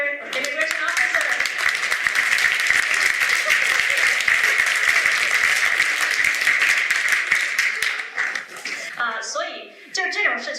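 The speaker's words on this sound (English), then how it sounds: "let's give applause to Leighton for being a great actor" Dense, steady audience applause fills a talk event on undocumented immigrants, praising a staged immigration-officer scene. It runs loud for about nine seconds, then thins and fades as voices return at the end.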